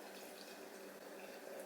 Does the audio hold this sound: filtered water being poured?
yes